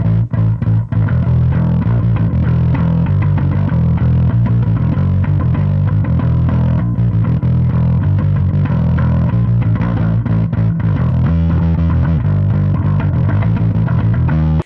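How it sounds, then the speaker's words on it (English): An isolated electric bass line from a thrash song, a dense, loud and continuous driving riff with fast repeated notes and a gritty distorted tone, with no talking. "Just for reference, the bass line sounds like this."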